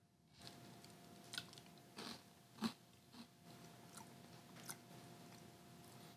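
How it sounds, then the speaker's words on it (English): Someone eats Quaker Quisp cereal, a little stale, in a quiet room, with a handful of distinct crunchy bites and chews spaced irregularly over several seconds. "Let us try Quisp cereal from Quaker."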